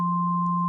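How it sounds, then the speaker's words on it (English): A steady, pure low-pitched sine tone plays together with a fainter higher sine tone, both constant and unbroken for under a second. "you have both sine waves playing at the right ear at the same time"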